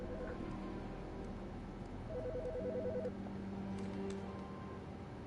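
A phone rings inside the video game Autopsy Simulator, giving steady electronic ringing tones repeated over several seconds against a low hum of game ambience.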